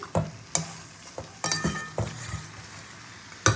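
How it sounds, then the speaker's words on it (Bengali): Chicken for chicken biryani is stirred as it fries in a pan, with a soft sizzle beneath several sharp scrapes and knocks of the spoon against the pan, close and intermittent. "চিকেনটা ভালো করে নাড়াচাড়া দিয়ে আমি এবার একটুখানি ঢেকে দেবো 5 মিনিটের জন্য।"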